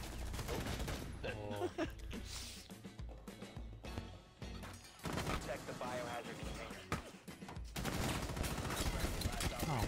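Gunfire in Rainbow Six Siege comes in bursts of shots over game noise, with players talking over much of it and the firing heaviest toward the end.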